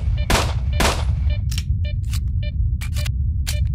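Gunfire in S.T.A.L.K.E.R.: Shadow of Chernobyl: two heavy, close shots, then a quicker string of sharper, lighter reports cracking out one after another.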